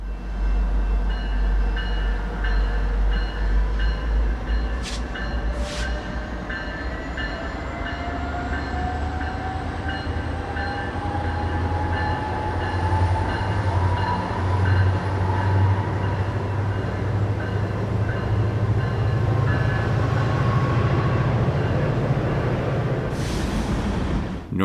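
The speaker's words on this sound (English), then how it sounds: "An afternoon outbound Northstar train begins its journey to Big Lake by crossing the Mississippi River onto Nicollet Island." An afternoon outbound Northstar commuter train crosses the Mississippi River onto Nicollet Island in Minneapolis, a long steady rumble and rolling wheel noise with a rising whine, close and loud, brief clanks near the start and end.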